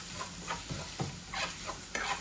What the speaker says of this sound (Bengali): আমি অল্প একটু শুটকি রান্না করতেছি